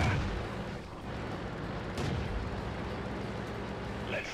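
World of Tanks gameplay with the A45 FV201 tank gun firing: a couple of booming shots, around the start and near two seconds, set against steady game rumble.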